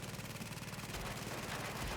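Rapid automatic gunfire from a weapon in the video game The Division, a dense rattling burst of quick shots in steady rhythm, loud and continuous with no talk over it.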